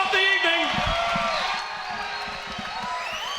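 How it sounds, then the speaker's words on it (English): Arena crowd at a women's cage fighting event cheering and whooping after a bout, a broad roar that swells at first and then eases into steady noise, with an announcer's voice over it. "Let's give them both a big round of applause."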